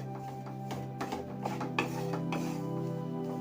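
A utensil stirs roasted wheat flour in a pan after the heat is off, making faint, soft scraping and rubbing strokes with a few light taps against the pan over a quiet, steady background hum.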